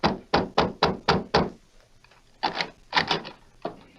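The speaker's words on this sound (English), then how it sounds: "the marshal, with Flint and Dutch, knocked on the door of the youth's home." Knocks on the door of a house in a 1942 radio western, a fast run of six loud close raps, a pause, then another uneven cluster of knocks, with no talk.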